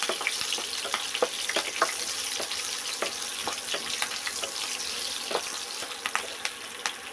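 Green chilies are stirred in a frying pan while making mango rice, producing a loud, continuous sizzle crackle close by, punctuated by frequent sharp spatula taps and scrapes, with no voice present.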